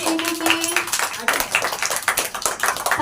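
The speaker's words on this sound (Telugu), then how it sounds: "క్లాప్స్ కొట్టండి స్వీటీకి." Children at a camp puppet show clap in a quick, uneven burst, bright scattered slaps filling the clip, with a few voices mixed in beneath.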